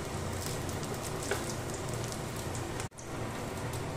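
Stuffed ash gourd pockets dipped in flour batter fry in hot oil over a low gas flame, giving a steady, close crackling sizzle with a brief dip in the middle.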